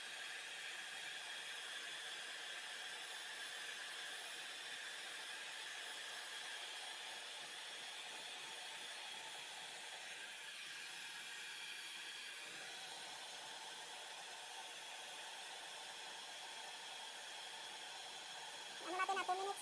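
A blower runs continuously with a steady airy hiss and hum, fairly quiet and constant, with a brief louder rustle near the end.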